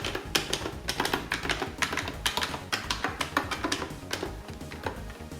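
Buttons and the stick on an 8bitDo arcade stick being pressed in quick succession, a close, dense patter of sharp plastic clicks and taps with an uneven rhythm and no talking.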